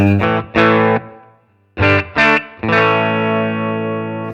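Electric guitar chords played through an amp simulator, strummed in short bursts, ringing out with a slightly driven tone, ending on a long sustained chord.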